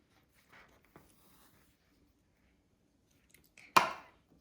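A few soft knife taps on a chopping board, then one sharp, louder chop through soft homemade paneer, close and otherwise quiet.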